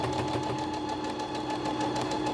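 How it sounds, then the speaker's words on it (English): A sewing machine stitches along a skirt lining, its motor humming steadily and close for the whole stretch with a fine rapid needle rhythm, with no talking. "So then all you're going to do is just sew along there."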